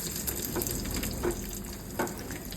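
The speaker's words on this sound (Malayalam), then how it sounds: "കറിവേപ്പിലയും കൂടെ ഇട്ട് നന്നായിട്ട് ഉള്ളി മൂത്ത മണം വരുമ്പോൾ മാത്രം ഈ കറിയിലേക്ക് ഒഴിച്ചു കൊടുത്ത് നമുക്ക് സ്റ്റൗ ഓഫ് ചെയ്യാവുന്നതാണ്" Onion and curry leaf tempering sizzling in hot oil for a tuna fish curry, a close, dense crackling hiss with a few brief splashy bursts, no voices.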